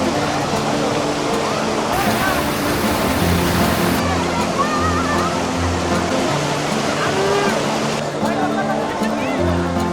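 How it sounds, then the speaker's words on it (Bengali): Roar of a waterfall in Sylhet, a continuous loud rushing of falling water that fills the scene, with someone talking over it. "এখান থেকে শোনা যাচ্ছে ঝর্ণার গর্জন"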